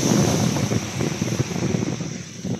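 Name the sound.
wind at Unay Beach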